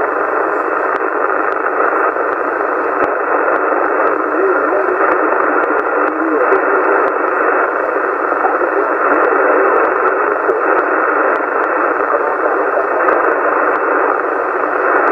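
CB radio transmission on 27 MHz, slightly off-frequency in the bass, heard as a continuous band-limited hiss of static and garbled modulation throughout.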